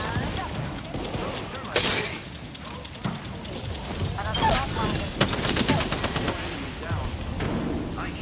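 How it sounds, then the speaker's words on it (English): Gunfire in the battle-royale game Apex Legends: several sharp bursts and rapid volleys over busy game noise, with voices talking throughout. "Shots at him. Big shots."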